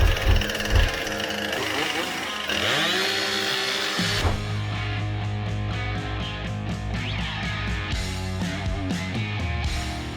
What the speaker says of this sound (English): I'm so eager to get back on my chainsaw